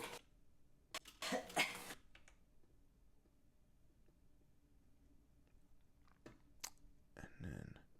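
A few close coughs and throat-clearing bursts, followed by quiet clicks and small mouth noises, then a final harsh cough near the end.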